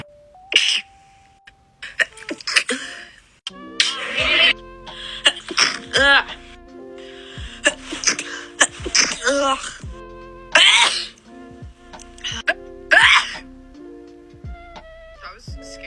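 A string of sneezes spread over the span, some single and some in quick pairs, each a loud close burst with a gasping inhale before it and quiet gaps between.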